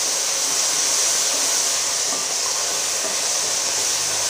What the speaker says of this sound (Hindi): मूंगरे, प्याज और टमाटर हमारे थोड़ी देर फ्राई होते हैं